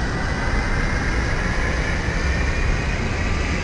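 A British Airways Boeing 737 airliner gives off a loud, steady engine roar with broadband rumble as it starts to taxi, with no breaks or changes across the stretch.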